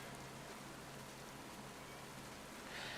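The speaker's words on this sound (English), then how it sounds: "It's a rainy day in the forest." Steady rain falls in a forest scene inside a video game as a soft, even hiss of drops with no talking, continuing unchanged for a few seconds.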